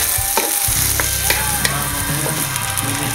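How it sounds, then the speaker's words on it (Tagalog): Rice being mixed into melted butter in a hot pan for fried rice, sizzling steadily with scraping and clinking stir sounds from a utensil, close and continuous, with no talking. "Pag napuno na yung butter, lagay na natin yung kanin natin. Ayan, gawin natin, mix lang natin."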